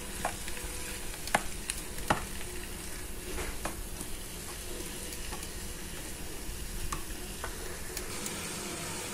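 Beef with fresh hot chili sizzles and fries in an oiled pan, with scattered scraping clicks of stirring over a steady soft hiss, fairly quiet and close.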